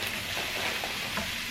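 Gourmet instant ramen is stirred in a hot pot, a brief, busy sizzle with clinking scrapes over it.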